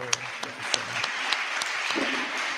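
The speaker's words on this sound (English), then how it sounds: "Another round of applause for" Applause at a university inaugural lecture, a steady wash of clapping from the audience with a few louder individual claps standing out, and a voice speaking over it.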